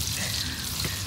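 Eggplant frying in a pan, giving a steady, dense sizzle of hot oil that runs evenly throughout with no voices.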